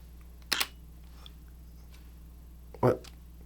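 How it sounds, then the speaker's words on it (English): A Sony A7C II fires with its electronic first curtain shutter and plays an artificial shutter sound: two crisp, close clicks about two seconds apart in an otherwise quiet room. "It's electronic first curtain shutter, and that shutter sound is fake"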